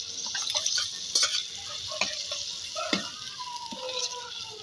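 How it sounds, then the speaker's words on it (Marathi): Close-up sizzling and crackling as mutton hits hot oil, with scattered pops and drips over a steady frying hiss. "छान तेल सुटलेलं आहे आता हे सर्व राहिलेलं मटण आपण याच्यामध्ये टाकून देऊ"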